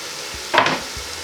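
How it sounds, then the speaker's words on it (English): Leek, potato and garlic sizzle in hot oil in a soup pan as they are stirred, a brief close burst of frying hiss with a soft scrape. "as you can hear, it's sizzling pretty well"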